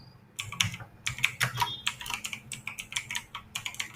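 Quick bursts of typing on a computer keyboard, dense irregular clicks and key taps close by, with no voices.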